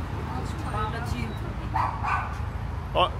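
A dog barks and yips a few times at a short distance while people talk over it.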